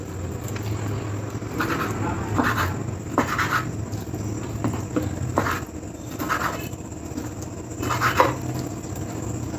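A knife cuts chicken into small popcorn-sized pieces on a board, giving a run of irregular tapping chops and scrapes over a low room hum.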